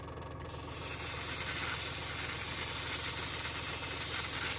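A Gaahleri Swallowtail airbrush, unscrewed, releases a steady loud hiss of air that starts abruptly after a brief pause and continues unbroken, with a faint compressor hum beneath.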